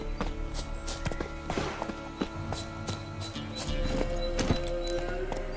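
Roach, a horse in The Witcher 3 game, gallops with rapid uneven hoof clops, a whinny and scuffing steps, fairly close with background game ambience.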